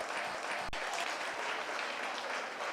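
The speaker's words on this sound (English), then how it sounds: "let's go ahead and give our mini 4-Hers a big round of applause." Audience at a county 4-H dairy goat show applauds the mini exhibitors, with steady, dense clapping from a crowd filling the whole stretch and one sharp louder clap near the start.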